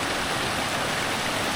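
Water from Bangara Kusuma Waterfalls in Karnataka rushes steadily around a road, a dense, even roar of flowing water with no break and no voices.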